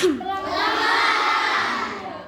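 Children in a classroom clap together after the teacher's cue, a short, dense burst of applause mixed with some shouting, close and fairly loud.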